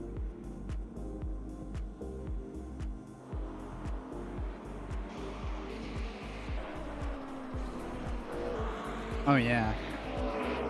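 Hypercars race past in the Le Mans Ultimate sim, a continuous droning engine note with rapid gear pulses and a rising whoosh of cars passing near the end, with someone speaking briefly over it.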